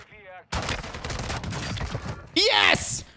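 Bryson 900 light machine gun firing in a video game: a sustained burst of rapid, loud gunfire lasting a few seconds, followed by a short electronic whoosh, with a bit of voice at the start.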